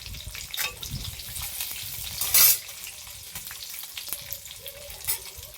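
Chilli and ginger frying in a pan: a steady close sizzle with stirring scrapes, and one brief louder hiss flaring midway.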